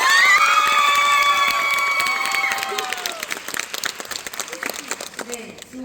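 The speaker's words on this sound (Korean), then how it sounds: "오늘 멋진 공연 보여주신 두 안무가께 다시 한번 큰 박수 부탁드립니다." Audience applause and cheering for two choreographers after a dance performance, a loud, dense burst of clapping and shouts that starts full and gradually thins out into scattered claps.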